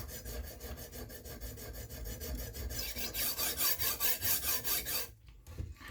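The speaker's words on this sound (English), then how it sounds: "When you're sharpening a knife, it's not a race" A knife blade is drawn repeatedly across a sharpening stone, producing a steady rhythm of rasping strokes that grow louder and faster midway, then stop abruptly with a few faint scrapes.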